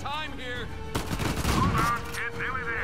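Gunfire in the Uncharted 4 video game, a dense burst of rapid shots and impacts starting partway through, loud and close, with talk over it.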